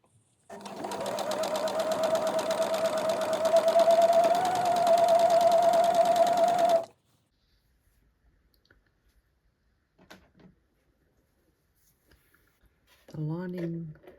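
A sewing machine with a rolling foot stitching a hem in one steady, rapid, close run of about six seconds, then near silence with a few small clicks, and a voice at the end.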